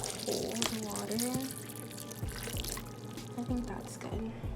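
Cold water is poured from a tap in a home kitchen, a soft, steady gurgling stream with some drips and splashes, quiet and close, while a voice talks briefly over it.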